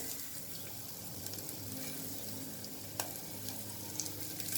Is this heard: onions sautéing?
yes